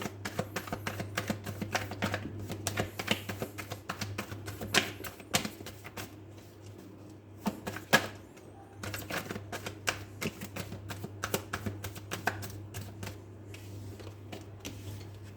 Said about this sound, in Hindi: चलिए अब हम कार्ड पिक करेंगे